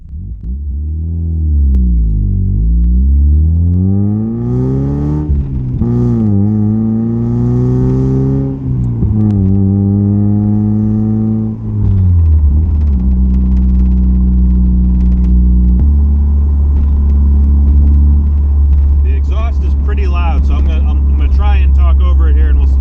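A 1990 Mazda Miata NA6 drives on the road, its engine climbing through the gears in rising sweeps with shifts between them, then settling into a steady loud cruising drone with road rumble.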